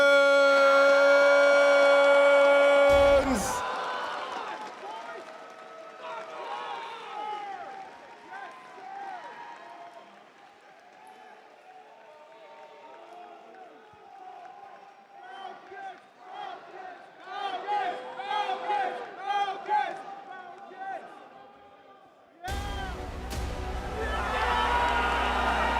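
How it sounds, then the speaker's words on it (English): A crowd at an Apex Legends tournament grand final erupts in cheers and applause for the champions, with loud arena cheering after a siren-like intro sound, fading and then surging again. "please give a huge and emphatic round of applause for Team"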